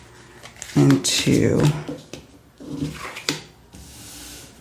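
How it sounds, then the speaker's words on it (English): Large 160-card oracle deck being shuffled in sections, bursts of riffling and card slaps up close, interleaved with a person talking. "I shuffle them in sections because it's such a big deck"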